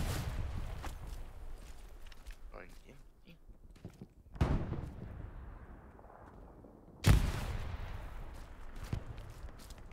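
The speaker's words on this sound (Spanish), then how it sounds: "Están tirándome granada" Two sharp grenade blasts and scattered gunfire in the WWII shooter game Hell Let Loose, bursting loudly over a steady rumble with a player talking throughout.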